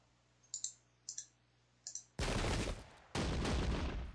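Musket volleys in the Sengoku Jidai battle game: a few sharp, faint clicking shots, then two long, loud bursts of massed gunfire crackling close together.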